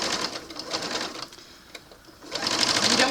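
A home sewing machine top-stitching along the edge of a fabric lovey, a steady close buzzing whir that runs continuously, drops out briefly in the middle, then resumes at full loudness, with no voices.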